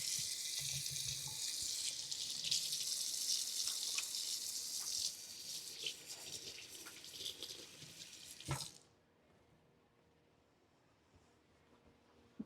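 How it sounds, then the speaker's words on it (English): Hands being washed under a running kitchen tap, a steady close hiss and splash of water that runs for several seconds before it is shut off abruptly, leaving near silence. "So let me wash my hands."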